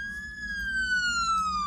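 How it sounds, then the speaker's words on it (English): A police siren wails in a steady, slowly falling tone, moderately loud and continuous over a low rumble of background noise. "And so you just hear the sirens"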